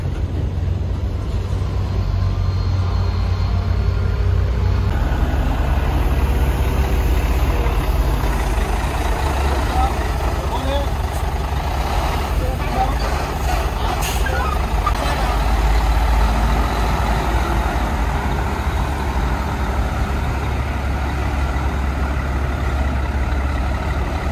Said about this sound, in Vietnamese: trên đường quốc lộ rất nhiều những chiếc xe ô tô to các bạn nhé